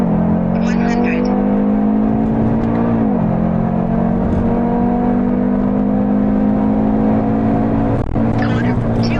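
Audi 2.5T five-cylinder with a DAZA TTE700 Stage 3 turbo setup roars steadily under acceleration, a loud, continuous engine drone with a brief dip in pitch as it shifts and keeps pulling.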